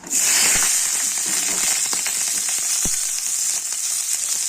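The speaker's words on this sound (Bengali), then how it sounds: "অল্প নুন অল্প হলুদ দিয়ে বেগে ভেজে" Flat beans frying in hot oil with ground ginger and green chilli paste, a steady close sizzle and crackle throughout, with occasional sharper pops and spatter and no voices.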